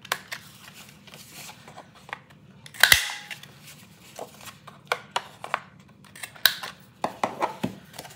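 A handheld corner punch rounds the corners of colored scrapbooking paper, giving a series of crisp snapping clicks, one louder crunch and a quick cluster of sharp snips near the end, all close up with no talk.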